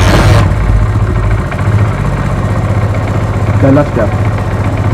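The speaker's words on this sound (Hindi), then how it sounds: "चलिए हम बाइक को स्टार्ट करते हैं।" A Honda CD 70 motorcycle engine idles with a steady, loud rumble close by while someone speaks briefly over it.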